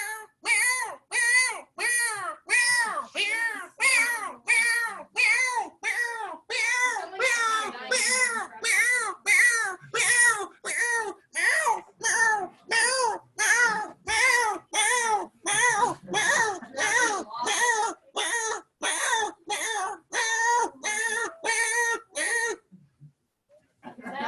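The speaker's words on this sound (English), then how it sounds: "Here's the call of the catbird" A long run of repeated mewing calls of a gray catbird, evenly spaced and loud, continuing steadily for many seconds with a brief pause near the end.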